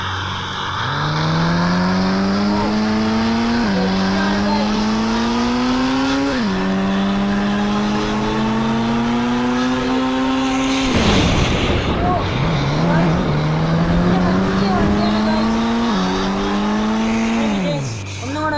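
Engine of a car in the Indian Bike Driving video game revving and accelerating through several gear shifts, the pitch climbing and dropping repeatedly, loud and steady with a brief rough burst midway.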